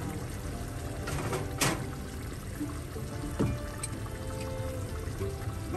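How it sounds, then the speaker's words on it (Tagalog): A little water trickles and pours into simmering chicken caldereta in a pot, soft and quiet with a few faint clinks. "Dadagdag tayo sa isang konting tubig."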